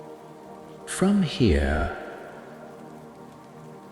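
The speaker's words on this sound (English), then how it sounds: "you can watch the rain falling across the forest." Rain falling across a forest and whispering on the leaves makes a steady, soft hiss throughout, with a calm voice speaking briefly near the start.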